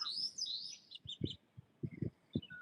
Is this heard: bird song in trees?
yes